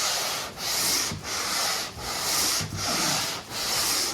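A sanding block rubs over body filler on the hull of a 20-foot Pacemaker boat in steady back-and-forth strokes, about six rasping passes with brief gaps between them, close and loud with no talk.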